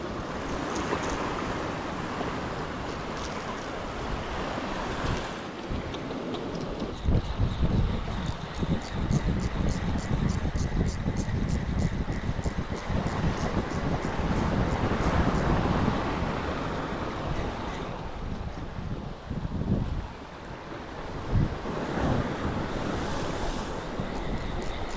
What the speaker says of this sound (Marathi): लाटा बनतायत मोठ्या.